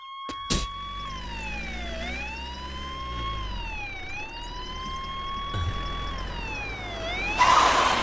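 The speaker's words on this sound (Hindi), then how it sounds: "वो देखो पुलिस की गाड़ी आकर रुकी है" Police car siren wailing in slow rising and falling cycles, steady and fairly loud, sounding alone with no talk and a brief burst of noise at the end.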